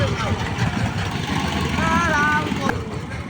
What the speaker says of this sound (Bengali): এই যে দেখুন আর একটা ট্রলার চলে আসছে